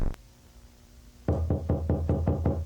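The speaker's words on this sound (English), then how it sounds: "Knock on the door." Knocking on a door in a video game: a brief tap, a pause, then a quick run of about seven firm, evenly spaced knocks, close and clear.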